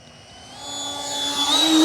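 An E-flite Habu XS 80mm electric ducted-fan RC jet flies past on a maiden flight, its whine rising in pitch and growing steadily louder as it closes in and the throttle is pushed hard.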